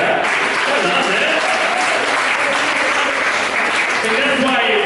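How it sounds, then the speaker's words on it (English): A theatre audience at a comedy show applauds steadily, a dense, loud, continuous wash of clapping that holds for the whole stretch with no talk. "Yeah, you can applaud that."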